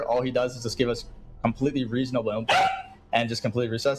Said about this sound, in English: I apologize for the dog.